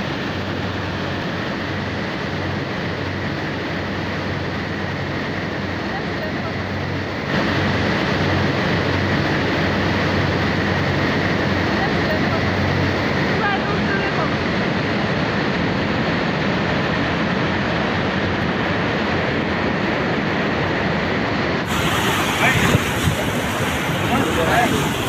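Water roaring through the opened gates of the Mohini Sagar dam in Madhya Pradesh, a steady broadband rush with wind buffeting the microphone that holds throughout and swells louder partway in.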